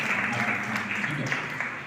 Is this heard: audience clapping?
yes